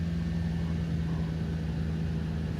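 A 1997 Toyota Celsior V8 on a cold start settles into a steady, low idle hum, continuous and fairly close with a constant drone and no voices.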